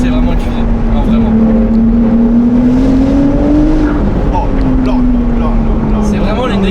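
A Ferrari 296 GTS engine revving hard while driving, a loud, rising and falling near mechanical drone with steady road and wind noise throughout.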